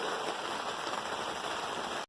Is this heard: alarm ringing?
no